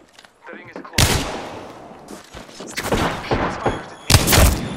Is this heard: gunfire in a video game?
yes